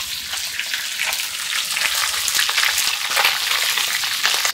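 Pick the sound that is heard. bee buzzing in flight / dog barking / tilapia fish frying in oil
tilapia fish frying in oil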